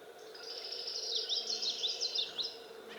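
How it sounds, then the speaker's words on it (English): Birds chirp at a lake campground in the morning in Prescott National Forest, Arizona, a faint rapid series of high twittering notes over a quiet background hum. "You got birds chirping."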